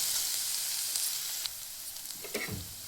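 Garlic, cumin and tempering seeds hitting hot oil in a pan give a steady, close, bright sizzle, with a sharper crackle burst near the end.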